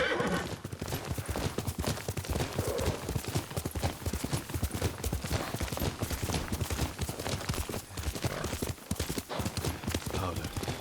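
A horse in Ghost of Tsushima, hooves clip-clopping in a quick steady rhythm on the ground, with neighing heard over the hoofbeats, fairly close and moderately loud.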